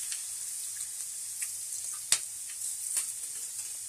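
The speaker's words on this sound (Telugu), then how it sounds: "ఇప్పుడు ఆయిల్ వేడెక్కిందండి, మనం దీంట్లోకి ఈ చిక్కుడుకాయని వేసేస్తున్నాను. నేను ఈ విధంగా కొంచెం ఫ్రై కావాలవి ఆయిల్లో." Broad beans (chikkudu kaya) fry in hot oil in a pan, giving a steady, fairly quiet sizzle with a few soft crackles and one sharp pop near the middle, with no voices.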